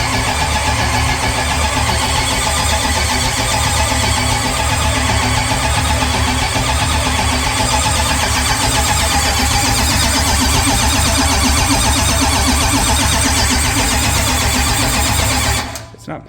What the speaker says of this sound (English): we're just gonna crank it over real quick